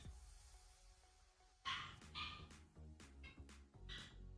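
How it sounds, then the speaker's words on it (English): A pet dog barks outside in repeated sharp bursts and yips over a few seconds, moderately loud and slightly distant, with an indoor hum underneath. "Can you hear the dog barking out there?"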